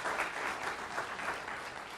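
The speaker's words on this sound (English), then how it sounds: "So go ahead and give him a round of applause." Audience applause welcoming a lecturer to a morning talk on the state of the ocean, a steady, dense wash of clapping from a sizeable crowd filling the room without a break.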